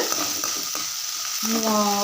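Chopped onions sizzle and crackle in coconut oil in a hot pan, with scraping stirs breaking in and a brief tonal ring near the end.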